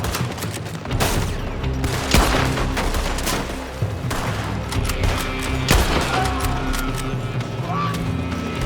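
Gunfire in the Western action game Red Dead Redemption 2, a dense fusillade of shots and bursts throughout, loud and close, layered over a busy game soundscape with music and shouting.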